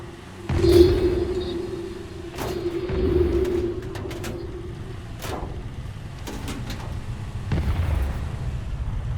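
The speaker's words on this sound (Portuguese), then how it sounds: "É infinita essa explosão dessa caminhonete, hein?" A pickup truck in a video game explodes over and over, giving repeated muffled booms at irregular intervals over a steady low game hum, with a tone ringing early on.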